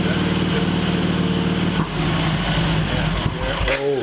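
Excelsior Henderson Super X motorcycle engine, warmed up and running lumpy around 2,000 RPM, a loud uneven idle with a rough pulsing beat that wavers and sags near the end.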